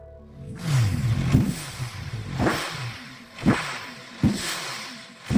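A V8-powered motorcycle revs under throttle in repeated surges, each rising roar cresting and falling back, with the engine fairly close and no voices over it.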